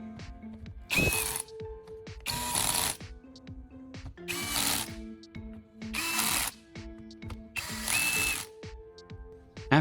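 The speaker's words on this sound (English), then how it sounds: "I carefully reattach all 6 caps and tighten them with a drill." A power drill tightens the six caps on a car battery, giving five whirring, ratcheting bursts of a second or so each, separated by brief quieter pauses, with no talk.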